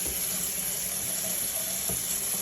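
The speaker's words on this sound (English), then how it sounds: "Make sure you rinse them off nicely." Makeup brushes rinsed under a running tap, a steady close hiss of flowing water with faint splashing as the bristles pass through the stream, no voices.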